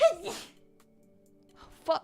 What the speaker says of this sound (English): I got like jump scared by my own sneeze.